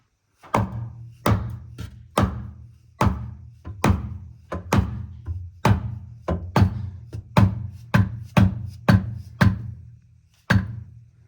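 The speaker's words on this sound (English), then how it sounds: "So now I just need to tap it in with a hammer." Sharp, regular knocks from a hammer tapping a greased bush into a Nissan 350Z differential brace, about fifteen evenly spaced blows in a steady rhythm, close and loud.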